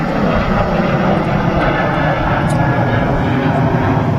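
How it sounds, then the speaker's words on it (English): A 12-year-old Ryanair Boeing 737-800 jet at Manchester Airport makes a constant, loud, broad engine roar with no pauses, and talk sits beneath it. "This Ryanair 737-800 is 12 years old and it's off to Shannon in Ireland."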